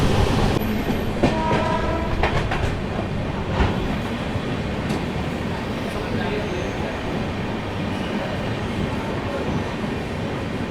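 The Tamilnadu SF Express passing through a station, a loud continuous rumble of wheels and wagons with clattering rail noise and a brief high horn-like tone near the start.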